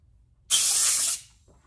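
A single sharp burst of compressed air blows off Ford C4 transmission valve body parts, a loud steady hiss lasting under a second that starts and stops abruptly, with no talking.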